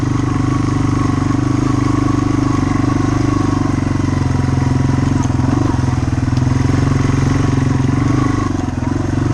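A Yamaha TW200 motorcycle engine drones steadily at a low, even pace, close and loud, as the bike rolls through mud and muck on big tires.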